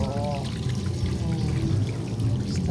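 Shower water pours steadily in a broad, close rush, with a few faint voices or whines briefly audible underneath.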